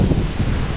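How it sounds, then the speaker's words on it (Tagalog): Strong wind from a super typhoon roars in a steady, loud, broadband rush that buffets the microphone with no pauses. "Sobrang lakas ngayon ng hangin."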